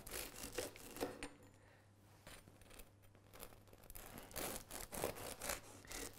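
Knife sawing through a crusty rosemary and vine fruit bloomer loaf, faint close crackling and scraping strokes in a few short bursts with a quiet pause in the middle.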